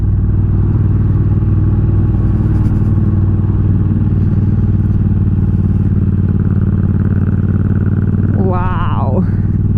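Custom Triumph Bonneville British bobber motorcycle being ridden, a steady loud engine drone with harmonic hum and wind throughout, a brief revving swell near the end.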